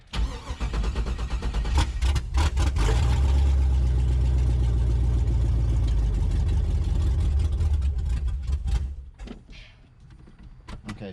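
A boat's inboard engine idles loud and steady for most of the clip with sharp mechanical clatter, then cuts out abruptly near the end, leaving quieter knocking and rustle; the engine stalls when shifted into gear.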